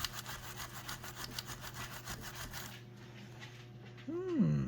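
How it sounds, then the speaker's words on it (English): A small steel brush scrubs rust off an old waffle iron in quick rhythmic back-and-forth rasping strokes that stop partway, followed by a brief voice. "Let's see if this little steel brush, see if that takes any of the rust off."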